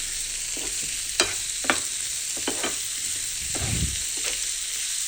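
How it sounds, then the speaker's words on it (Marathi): Onions sautéing in a pan for mixed dal khichadi, a steady close sizzle with several sharp spatula scrapes and clinks as they are stirred, no voices. "आणि हे छान आपल्याला लालसर होईपर्यंत भाजून घ्यायचं आहे किंवा परतून घ्यायचं आहे"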